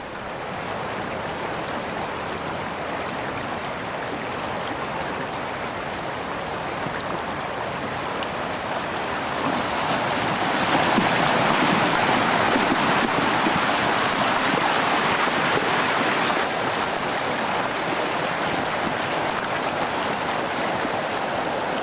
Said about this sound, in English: the Yosemite Creek and all of its might is coming toward us